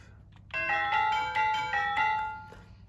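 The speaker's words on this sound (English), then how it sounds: "Tubular bells. This time I'm going up to octave 5." A tubular bell rings four times at a slow, even pace in octave 5, each clear metallic tone sustaining and decaying into the next, close and fairly loud.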